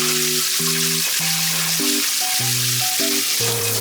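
Zucchini frying in a pan gives a steady, loud sizzle with no pauses, while sustained musical tones play over it.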